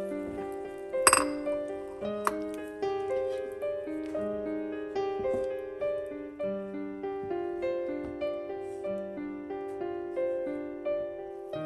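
Chopsticks stirring pork slices apart in a pot of simmering peas, light clinks and taps against the pot over a bright layer of background music, with a sharp knock early on.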